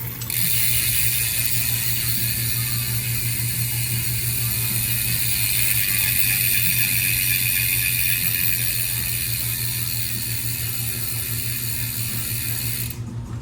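A freehub ratchet on Super Team bicycle wheels, fitted to a Walmart Ozark Explorer gravel bike, buzzes as a fast, continuous clicking whir, loud and close, holding steady for about twelve seconds before stopping abruptly.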